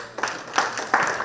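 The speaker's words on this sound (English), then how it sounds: "I'd like us to give a round of applause to our panelists." Scattered clapping for panelists at a climate and environment breakout session, a few distinct bursts of applause rising and falling in quick succession.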